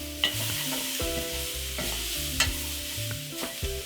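Chopped tomatoes hit a hot pan of Kenyan beef wet fry with spices, sizzling steadily up close while a spoon scrapes and stirs in repeated sharp knocks.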